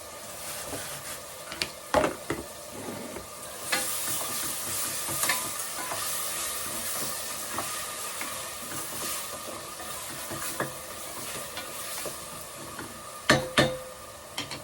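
Curry leaves sauté in hot oil in a pan while a chicken curry is being made, a soft continuous sizzle with sporadic clanks and scrapes of a spoon, a few sharper knocks near the end.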